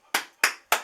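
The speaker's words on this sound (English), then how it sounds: "Grandma says, clap your hands." Three sharp hand claps at an even pace, each crisp and close, with clean silence between them.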